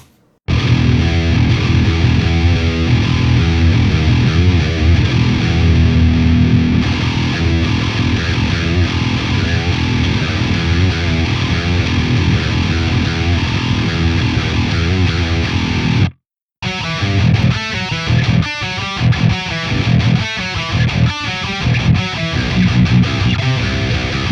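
Heavy high-gain distorted electric guitar played through a Fractal AX8 patch plays chugging riffs, dense and loud, with a brief silent break before the riffing resumes choppier.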